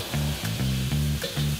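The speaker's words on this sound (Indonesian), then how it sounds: "aku tumis bawang putih bersama cumi dan udang. Apinya sampai ke wajan-wajan" Garlic stir-fried with squid and shrimp in a hot wok over high flame, loud sizzling in repeated bursts as the spatula tosses the food, several quick scraping strokes close by.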